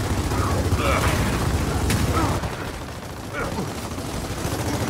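Blind-fired gunfire in the cover shooter Gears of War 4, a dense, loud stream of automatic shots for about two seconds, then a quieter rattle of weapon and mechanical noise.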